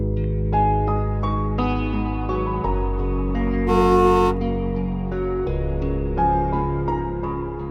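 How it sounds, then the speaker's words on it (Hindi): Several car horns honk in a busy mix, with one longer, brighter blast near the middle, over a steady low rumble. "तो ये भी गाड़ी का हॉर्न है।"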